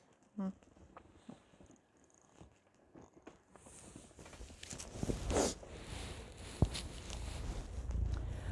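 Soft, low rumbling purr from a nearby cat, with faint rustling and brief bumps in a quiet room.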